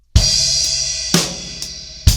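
A drum fill moves around the toms, with a few sharp, close hits spaced about half a second apart, each followed by bright ringing decay.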